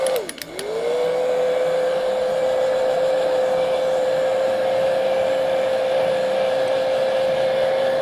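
Handheld hair dryer blowing steadily to dry paint on a stencilled Christmas painting, loud and close, starting with a brief pitch dip then holding one constant whine throughout with no talk.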